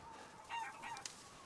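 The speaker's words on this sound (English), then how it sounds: "Got 3 chickens here." Chickens give a few short clucks and squawks in the video game Resident Evil Village, brief and faint over a quiet background hum, with no talking.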